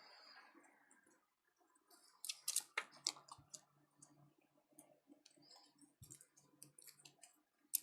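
A deck of playing cards shuffled at a table for the Marvel Champions card game, heard as quiet, close bursts of crisp clicking and riffling that come in uneven clusters, with no talking.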